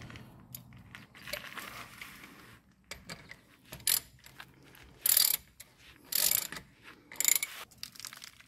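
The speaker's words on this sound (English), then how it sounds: "I put the socket on the oil filter, and I have a ratchet" Ratchet with a socket fitted onto a Cub Cadet Challenger 750 lawn tractor oil filter, giving close, sharp bursts of clicking in short irregular strokes separated by quiet pauses.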